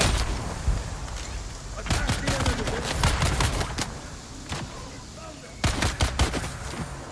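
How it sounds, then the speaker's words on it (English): Rapid bursts of gunfire in the video game Dune Awakening, coming in repeated volleys of overlapping shots aimed at the player, loud and close with brief lulls between the barrages. "Stop shooting me"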